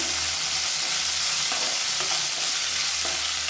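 Adamant creeper (pirandai) sautéing in oil in a pan, an even, close, continuous sizzle with faint stirring scrapes throughout and no talking.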